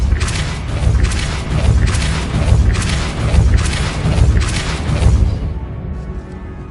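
Depulso force spell impacts in the wizarding game Hogwarts Legacy, a series of about five loud, regularly spaced booming thumps, each with a rumbling tail, fading out at the end.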